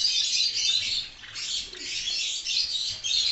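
Java sparrows in a breeding cage setup of eight pairs, the cage divided into compartments, give steady high chirps and tweets that run throughout, fairly faint and heard from a little distance, with no talking.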